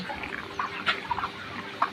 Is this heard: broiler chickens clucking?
yes